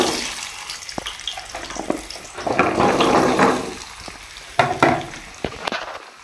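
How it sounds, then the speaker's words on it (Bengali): Potatoes frying in a pan give a steady sizzle, broken by louder bursts and clinks as they are stirred and turned, close up, with no talking. "তার জন্য আমার আলুটাকে ভেজে নিতে হবে"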